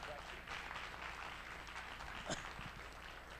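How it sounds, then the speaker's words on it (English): Applause from a summit audience honoring philanthropist Jim Calaway and Dr. Carrie Hauser, dense continuous clapping at a fairly faint level, with some voices mixed in. "one more round of applause for Dr."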